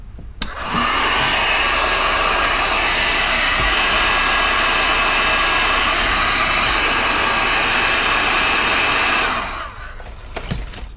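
Heat gun blowing steadily while heat-shrinking wiring during a power chair repair, a loud continuous roaring whoosh that starts abruptly, holds for about nine seconds and cuts off, with no talk.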